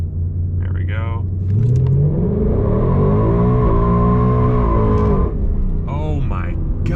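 A base Ford Mustang launches hard from a brake-torque start, its engine roaring loud and close as revs climb and shift through rising sweeps, with voices speaking over it briefly.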